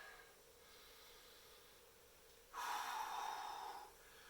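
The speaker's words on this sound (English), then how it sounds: "I'm breathing." A person breathing heavily while doing a slow shoulder exercise lets out one long, forceful exhale lasting over a second, close and fairly loud against faint room noise.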